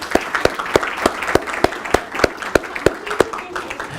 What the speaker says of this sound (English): Can we give a round of applause to students?